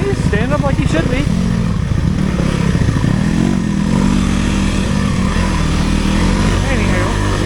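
A Kawasaki KLX300R dirt bike engine drones and rises in pitch while riding, loud and continuous with a voice talking over it, probably a 150 running alongside.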